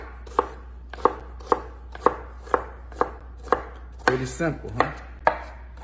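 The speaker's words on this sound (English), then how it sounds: "And then dice them up." A knife dices bell pepper on a cutting board in sharp, evenly spaced chops, about one a second, heard close and crisp, with a short spoken remark partway through.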